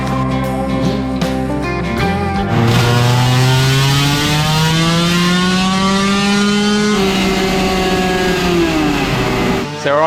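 A dirt bike engine revs hard on a dyno, starting with choppy blips and then climbing into a long, loud, sustained wail that rises steadily in pitch before dropping off sharply at the end.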